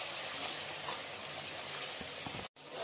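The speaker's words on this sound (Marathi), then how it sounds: "हे छान परतून घेते आता मी हा मसाला।" Masala of red chilli powder and green chillies sautéing in a pan, a steady close sizzle and hiss that runs continuously, with a brief clatter and a short break near the end.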